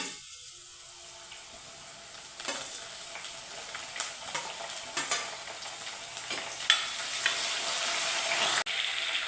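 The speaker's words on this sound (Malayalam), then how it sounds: "നമുക്ക് ഇതിനകത്തോട്ട് ഇനി അല്പം കരിയാപ്പില ഇടാം." Curry leaves dropped into hot oil with green chillies for a Kerala fish curry, a steady sizzle with scattered crackles and stirring scrapes that grow busier toward the end.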